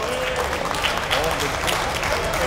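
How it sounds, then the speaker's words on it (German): An audience applauds at a prize ceremony at a family Sunday event, dense steady clapping filling the space while a voice speaks over it. "Ein Applaus"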